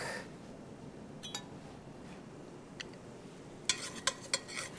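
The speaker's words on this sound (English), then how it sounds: "Stir it all together. Let the garlic cook off a little bit." Garlic and sweated onions being stirred in a risotto pot, a soft scraping stir with a few sharp utensil clinks against the pot toward the end, close and fairly quiet.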